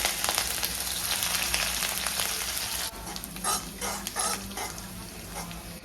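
Ginger and green chili sizzle and frying in a pan as a sauce base gets started, a steady hiss that softens partway through, with occasional stirring scrapes; no talking over it.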